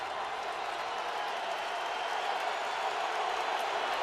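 A home crowd at an NFL football game in the Colts stadium roars in a steady, broad wash of cheering and noise, with a commentator's voice talking over it.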